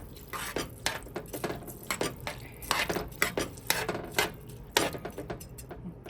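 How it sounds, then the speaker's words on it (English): A spoon stirring rice and water in a pot for arroz con gandules, repeated scraping clinks of utensil against the pot in an uneven rhythm, close and moderately quiet. "I'm gonna start like stirring the rice."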